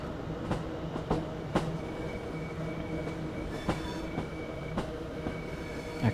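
Trains arrive at a station in Train Sim World 5, with a steady rolling rumble and repeated sharp clicks and wheel clatters at irregular intervals, carrying on without talk for several seconds.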